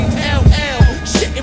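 Chevy Camaro SS exhaust giving three quick, close crackles and pops in under a second and a half, each a sharp low burst over a rough rumble.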